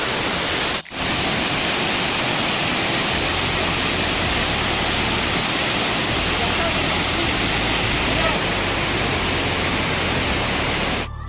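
The roaring Talakona waterfall near Tirupati fills the air with a constant, dense rush of water, loud and unbroken throughout.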